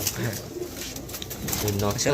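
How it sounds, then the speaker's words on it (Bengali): Female Madras pigeon cooing in a loft among other pigeons, soft repeated coos close by, with people talking over much of it. "এটা হচ্ছে মাদা পায়রাটা"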